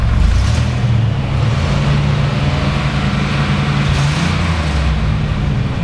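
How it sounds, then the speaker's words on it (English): Engine of a 1995 AWD Chevy Astro running steadily, a loud, low, even hum with a smooth idle drone heard close up and unbroken, no voices over it. "Sounds like a brand new motor."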